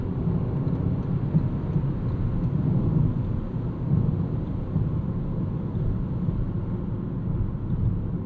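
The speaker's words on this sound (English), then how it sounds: "Let's bump this into sport. That's going to spike our revs a bit." A 2026 Toyota Corolla Hatchback FX hybrid in sport mode drones with a steady, muffled engine and road roar from inside the cabin, holding a continuous loud rumble with slight rises in revs and no speech.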